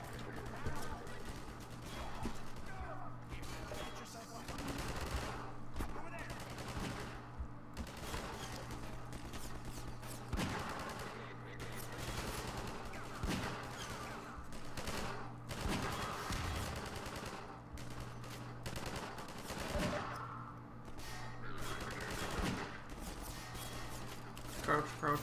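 Half-Life 2 gunfire sounds as bursts of shots and rattling fusillades scattered across a busy game soundscape, moderately loud, with voices talking over much of it.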